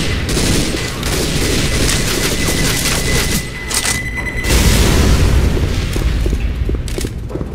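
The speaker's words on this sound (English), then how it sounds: "Throwing a pipe bomb!" A pipe bomb goes off in the zombie shooter Left 4 Dead 2 at a carnival fairground: heavy booming blasts mixed with rapid gunfire, loud and continuous, with a brief dip before a deeper rumbling surge.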